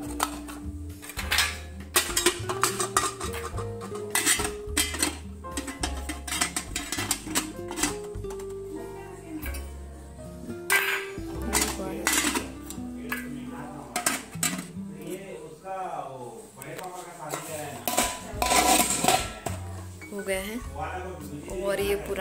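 Metal spoons and utensils clink and clatter as they are set down one after another in a home kitchen, with kitchen clutter throughout and a voice talking over it.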